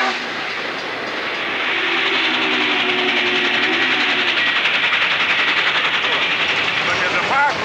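Norfolk & Western 611, a J-class steam locomotive, runs with a loud, continuous rumble and rail noise that build and stay steady, with a voice heard over it.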